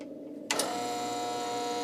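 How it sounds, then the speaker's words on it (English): A bevel edger machine starts up to cut an eyeglass lens to fit a frame, going from a quiet background hum to a steady whirring mechanical drone with tonal whines, close and even. "Jim uses a bevel edger to custom cut the lens to the specific frames"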